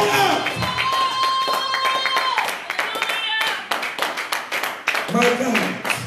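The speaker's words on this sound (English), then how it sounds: "So clap your hands, all ye people." A worship congregation claps in a steady rhythmic beat during a Sunday church service, with singing and voices over the clapping.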